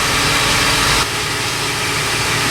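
An air compressor runs in the background of a repair shop, a steady droning motor hum with a slight drop in level partway through and no speech.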